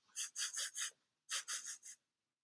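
Quick bunny breaths for a children's mindfulness exercise: two close bursts of rapid sniffing inhales, four short puffs then a pause and four more, breathy and clear with no talking.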